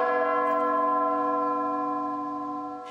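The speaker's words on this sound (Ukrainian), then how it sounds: "пролунали 100 ударів в дзвін" A single deep church bell strike rings out and hums on, its rich tone slowly fading over a few seconds with no voices.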